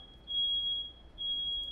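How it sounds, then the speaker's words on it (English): A smoke alarm beeps in two long, shrill, high-pitched tones with a short gap between them, faint and in the background with nothing else audible. "There's a smoke alarm going off."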